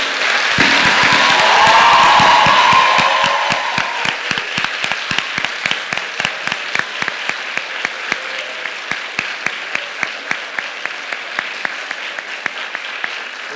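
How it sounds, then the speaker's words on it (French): An audience applauds the finalists of a student eloquence contest at Sciences Po Saint-Germain. A full, loud burst of clapping gives way to slower, steady rhythmic clapping that keeps an even beat to the end. "Nous vous demandons d'applaudir bien fort Agathe, Salomé, Sophie, Romain, Nadia, Hugo,"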